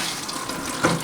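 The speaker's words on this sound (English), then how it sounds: "So now we could turn the water back on." Tap water flowing into a sink after the supply is turned back on, a steady hiss of running water with a brief louder surge near the end.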